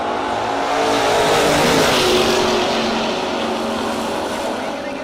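Drag racing cars, a Barracuda and a G-Body Oldsmobile, roar loudly at a no-box race, engines surging and rising in pitch together before easing off, with no talk over them.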